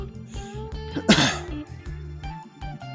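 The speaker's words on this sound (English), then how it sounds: "One good cough here." A single sharp, loud cough sounds close to the microphone during a bodyweight workout, standing out over steady background music.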